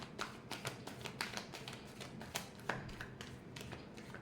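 Tarot cards are shuffled by hand close up, giving a quiet run of crisp, rapid riffling taps and slaps in an uneven rhythm with no speech.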